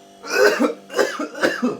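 Three harsh coughs in quick succession, close and fairly loud, with short pauses between them.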